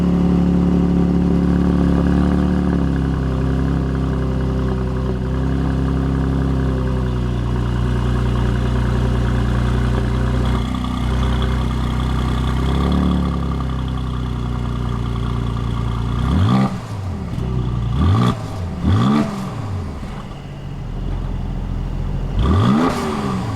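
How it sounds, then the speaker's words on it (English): A 2020 Mercedes GLC Coupe with the optional AMG performance quad exhaust idles with a deep, steady rumble, then blips the throttle in several short revs near the end, loud and close. "we also have quad exhaust pumping out the optional AMG performance exhaust"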